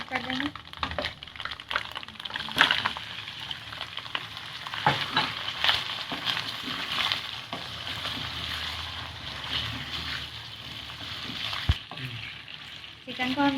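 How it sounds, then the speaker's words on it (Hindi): Chicken frying in a pan with ginger garlic paste, a steady broadband sizzle with scattered stirring scrapes and clatter, fairly loud and close, continuous throughout with no talk. "चिकन को हमने कलर चेंज होने तक फ्राई करते रहना है।"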